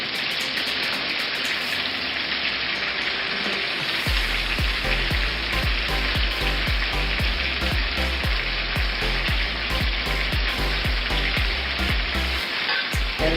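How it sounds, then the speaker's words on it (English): Onions sizzle loudly in a hot pan, with a steady crackling hiss and repeated scraping and stirring strokes, close up. "And stir fry it until it gets the golden brown."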